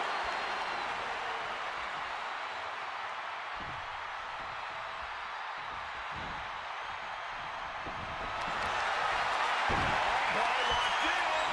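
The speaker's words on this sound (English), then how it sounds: "A deafening cheer from the WWE Universe as Roberto" A WWE 2K25 arena crowd cheers and applauds in a steady, dense roar that swells louder near the end, with faint commentary underneath.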